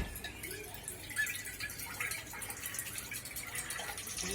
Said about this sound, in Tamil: இந்த தண்ணியை வடிச்சுக்கணும்.